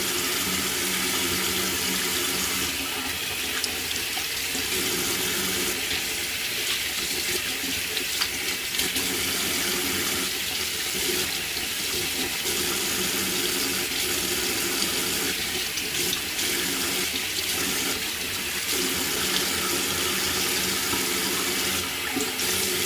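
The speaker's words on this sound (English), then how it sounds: "all I need to do is to remove it by washing it." A tap runs steadily into a sink while a dried turmeric face mask is washed off, giving a close, continuous splash with small shifts in flow as hands move through the water, and no talk.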